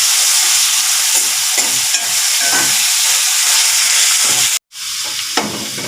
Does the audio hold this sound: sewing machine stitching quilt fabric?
no